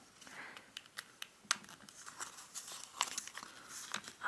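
Origami paper being folded in half while shaping a bucking horse model, giving soft, close crinkling and crackling with scattered sharper creasing snaps over a few seconds.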